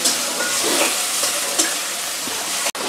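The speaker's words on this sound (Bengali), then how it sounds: "এই দেখেন চিংড়ি মাছটা রসুন আর পেঁয়াজ দিয়ে ভেজে নিচ্ছে।" Dried shrimp frying with garlic and onion in hot oil, a loud continuous sizzle and hiss close by, with a few faint stirring scrapes and a brief cut near the end.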